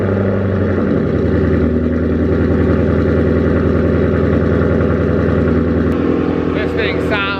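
Drift car with grill delete and JLT intake fires up and settles into a loud, steady, rumbling idle close by, engine note continuous throughout with a brief rev change near the end.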